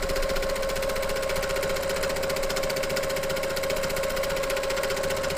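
Sewing machine stitching a quilt free-motion in manual mode without a stitch regulator, a steady rapid mechanical hum and chatter running continuously at close range with no talking.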